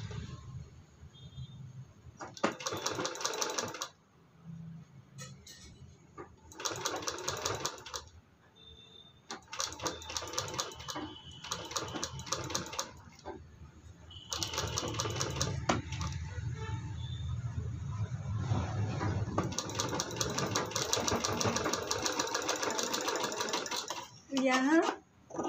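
A sewing machine stitches a baby sock boot made from a reused handkerchief in quick bursts with pauses between them, fairly quiet, ending in a longer steady run.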